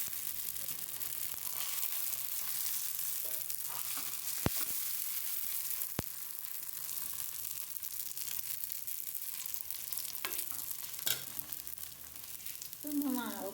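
Dosa batter sizzles steadily on a hot stone griddle, a continuous frying hiss with a couple of sharp clicks and light scraping toward the end, heard alone without talk.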